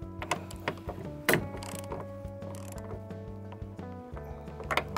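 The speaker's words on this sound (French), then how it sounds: "On valide le serrage à la clé à cliquet." A ratchet wrench tightens the door hinge bolts on a Nissan Patrol, giving faint, rapid mechanical clicking with a few sharper metallic clicks over a steady hum.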